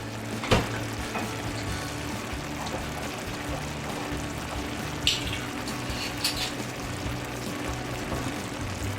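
Balsamic onion and mushroom sauce reducing over low heat in a pan, a steady soft sizzle and bubbling running throughout, with a couple of brief clinks.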